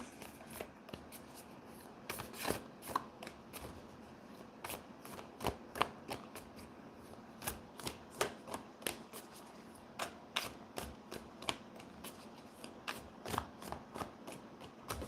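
Tarot or moonology oracle cards are shuffled close up in a steady run of soft, papery riffling flicks that continues for a long stretch with no talking.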